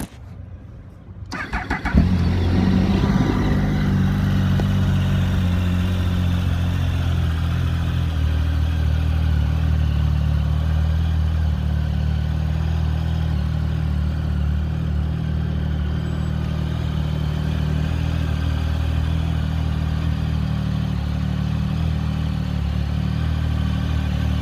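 A Triumph Speed Triple R 1050 motorcycle starts up after a brief quiet moment, then its engine settles into a loud, steady idle running nearby without speech.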